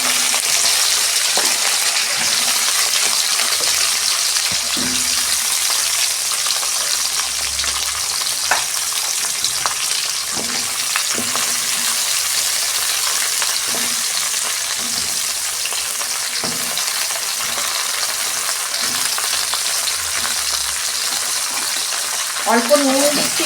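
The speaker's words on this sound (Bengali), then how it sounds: "ওই তেলেতেই আমি ঢ্যাঁড়সটা দিয়ে দিচ্ছি।" Okra goes into hot oil left over from frying potatoes, producing a long, even sizzle with scattered pops and light utensil taps, close and fairly loud throughout.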